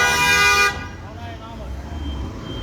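A loud, sustained car horn honk on a city street cuts off abruptly, leaving road noise and low background sounds.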